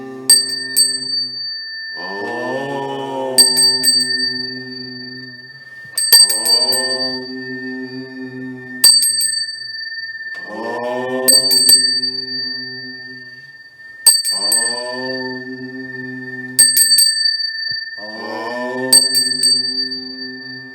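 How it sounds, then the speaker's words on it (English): A bell in a ritual house setting rung repeatedly, about eight clear strikes spaced a couple of seconds apart, each ringing out and fading before the next, close and loud, with low humming between strikes. "As you ohm, I will ring the bell."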